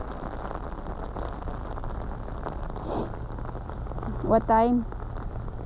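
Heavy rain pours steadily on a cold, windy beach in France, a dense close hiss throughout, with brief speech and a short whistle-like sound near the end.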